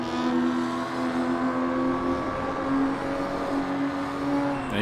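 Race cars at Sepang circuit during practice, engines droning steadily at high revs with sustained tonal whine as cars run close together, a continuous loud roar without talk.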